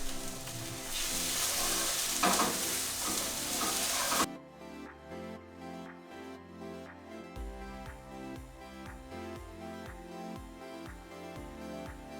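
Chopped onion and garlic sizzle in a pan, loud at first, then quieter frying broken by repeated scrapes and taps of a spoon stirring.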